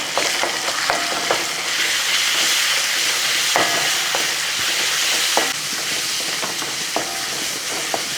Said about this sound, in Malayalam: ഇനി ഒന്ന് ഇളക്കി കൊടുക്കുക.